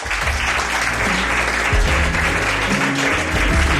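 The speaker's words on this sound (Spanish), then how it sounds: "Un aplauso, ¿no?, para este señor." Steady applause from a live show audience fills the whole stretch, with music or low tones playing underneath.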